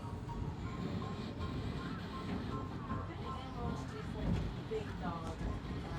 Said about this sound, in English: Taking the tram car back.